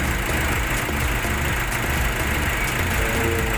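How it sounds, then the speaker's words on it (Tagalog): A Nissan Navara engine idles after a fresh oil change, a loud, steady low drone with even mechanical ticking and no revving, heard up close and alone. "hapit yung tunog ng makina guys, walang vibration gaano."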